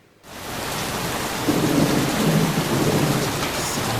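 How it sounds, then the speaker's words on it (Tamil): Heavy, steady rain pours down with a deep rolling thunder rumble in a trailer for the film 3BHK, starting abruptly and continuing loud and unbroken throughout. "மழை போல"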